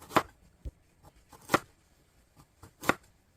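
Knife cutting ginseng roots into thin 0.3 mm slices on a board, a few sparse, sharp chopping taps at irregular intervals, faint and close, with no talking.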